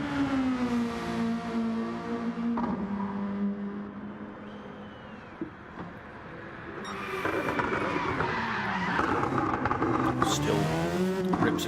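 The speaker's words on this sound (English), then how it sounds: "A great big handbrake turn across the line though." A Nissan GR2 RC race car throws a handbrake turn across the finish line, tires squealing in rising and falling tones under a commentator's steady talk, with motor whine growing louder toward the end.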